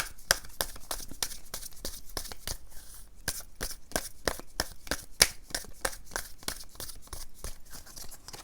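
Tarot cards being shuffled and drawn by hand, a quick series of soft crisp riffling flicks and slaps repeating steadily, close but quiet, with no talking.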